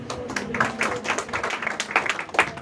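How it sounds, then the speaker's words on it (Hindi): Members of a church congregation clap their hands in worship. The clapping is quiet and uneven, with irregular bursts and some mixed-in voices. "ताली बजाकर परमेश्वर"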